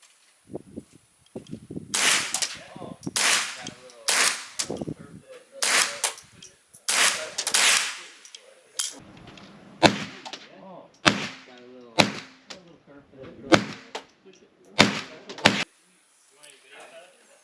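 A series of sharp gunshots fired through a cheap legal suppressor, a dozen or so reports spaced irregularly, each a loud crack with a short tail, with brief quiet gaps between shots.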